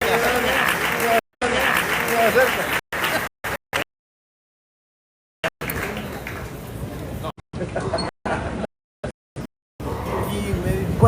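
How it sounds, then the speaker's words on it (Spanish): Applause from the audience at the opening ceremony of the Guatemala book fair greets the Minister of Culture and Sports, with loud bursts of clapping broken by several abrupt silent gaps. "un caluroso aplauso"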